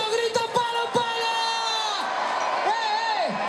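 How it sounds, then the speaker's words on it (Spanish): Crowd at an open-air orchestra concert in Cacheiras, Teo, shouting and whooping together, a dense continuous roar with rising and falling yells over loud music. "Un palo y otro palo y el público grita!"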